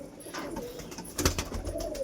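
Paired pigeons coo softly inside a pigeon house, a low rolling murmur near the listener, broken midway by a brief sharp clatter like wings or feet.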